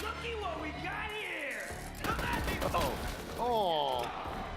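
Borderlands 3 gunfire as an enemy shoots through degrading cover, rapid bursts of shots and impacts mixed with game sound effects, running continuously under loud excited talk.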